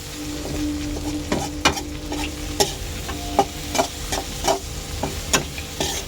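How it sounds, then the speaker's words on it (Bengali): Turmeric, chili, cumin and coriander powders fry in a pan for a kabuli chana ghugni. A spatula scrapes and stirs in repeated short strokes over a soft, steady sizzle, with no talking. "হলুদ দিয়েছি, লঙ্কা দিয়েছি, জিরে গুঁড়ো ধনে গুঁড়ো দিয়েছি, দিয়ে এবার ভালো করে কষে নেব।"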